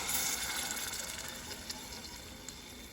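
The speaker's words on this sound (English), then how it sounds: "I'm going to pour this in slowly." Homemade tomato sauce is poured slowly into a jar, a soft, continuous gushing trickle that stays close and fairly quiet, with a couple of faint taps near the end.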